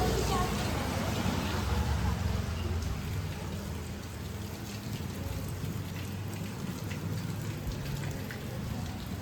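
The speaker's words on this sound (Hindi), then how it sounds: "भगवान ने सोचा कि अब बारिश कर देते हैं, इसलिए गाइस देखो अभी बाहर बारिश हो रही है।" Heavy rain pours steadily outside in a loud, dense, unbroken hiss that fills the whole stretch without letting up.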